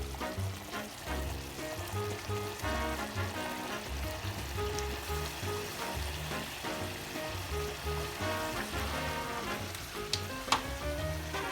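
Pappardelle pasta in a pesto brandy sauce sizzles and fries steadily in a hot pan, with stirring scrapes throughout and no talking.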